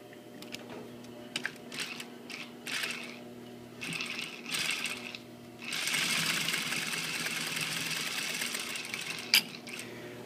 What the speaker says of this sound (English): I like to add a nice little top stitch here on the edge, just for a more finished kind of a look.